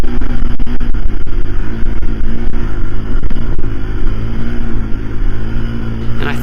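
A Honda Pioneer 1000-5 UTV engine straining up a snowy hill, a loud, close, sustained drone with rhythmic pulsing and sharp knocks as it climbs.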